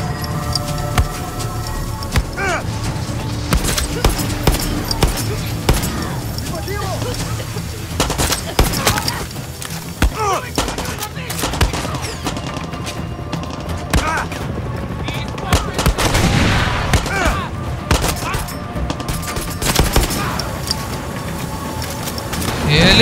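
Gunfire in the video game Far Cry 6, with repeated shots and bursts of automatic fire scattered through a busy, dense game soundscape, under occasional talk.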